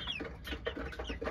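Criollo hen clucking after laying an egg, a run of rhythmic cackles repeating about every third of a second, fairly close and steady, with no talk.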